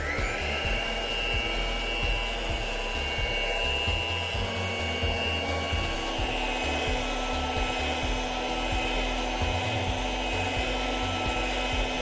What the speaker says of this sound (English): speed up the beaters and keep beating the egg whites until you reach stiff peaks